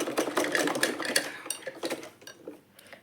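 A home sewing machine stitches a belt onto a small side purse, sounding as quick, close rattling bursts of needle taps that fade slightly toward the end.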